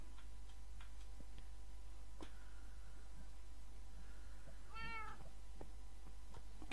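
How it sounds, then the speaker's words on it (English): A single cat meows once, a short clear mid-distance call over a steady background hum with a faint ticking clock. "Cat"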